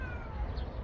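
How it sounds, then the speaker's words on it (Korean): A cat gives one short, close meow that rises and falls over a low, steady background rumble. "너도 야옹 잘하네."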